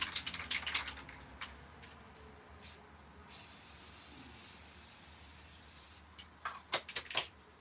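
Rust-Oleum spray paint in blue hisses from a can in a garage art session: a few short bursts, then one long, even spray of about three seconds, then more quick spurts close by.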